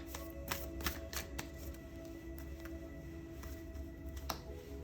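Tarot cards being shuffled by hand during a Valentine's couples pick-a-card reading, a run of soft riffling snaps and clicks over a steady low background hum, with no talking.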